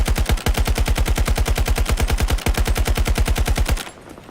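A gun empties a full magazine in the video game Battlefield 2042, firing as a loud, rapid, steady automatic stream of close shots with one brief hitch partway through, then stopping abruptly into quiet.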